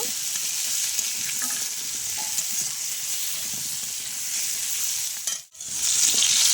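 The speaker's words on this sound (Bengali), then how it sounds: "আমি কাঁচকলাটা দিলাম এবার একটু ভেজে নেব" Steady sizzle of green banana frying with turmeric in a pan, a continuous bright hiss with faint stirring scrapes underneath, briefly dipping near the end before resuming.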